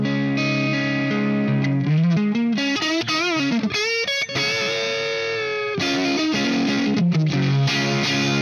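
A Marshall Studio Classic SC20 guitar amp carries softly played notes and chords that keep a slight edge of distortion, sustained and ringing with a few brief breaks.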